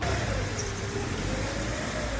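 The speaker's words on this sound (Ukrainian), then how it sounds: "Зараз автомобіль заїжджає на підйомник" A car engine idling as it drives slowly onto a lift in an enclosed garage, a steady low rumble with constant broadband noise and no talking.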